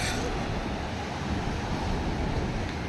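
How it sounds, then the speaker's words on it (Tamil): Arabian Sea waves at Azhimalai make a steady, loud wash of surf mixed with wind buffeting the microphone, continuous throughout with no clear breaks. "இந்த பாருங்க அரபிக்கடலை எப்படி இருக்குன்னு"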